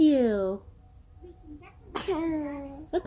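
A baby sneezes twice, close and loud, with high-pitched little bursts about a second and a half apart. Brief squeaky vocal sounds follow each sneeze.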